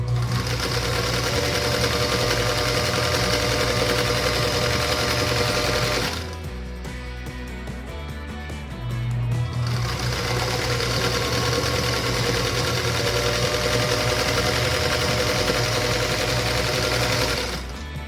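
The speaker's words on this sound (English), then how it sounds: "now we're going to go back through and sew on the opposite side" Sewing machine stitching a pink and green nine-patch star quilt block, a loud steady mechanical whir running continuously with a brief slower pause midway before resuming at full speed.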